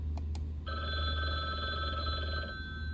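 A telephone ringing sound effect in Scratch: two short tones, then a steady electronic ring lasting about two seconds over a low background hum, faint and heard alone.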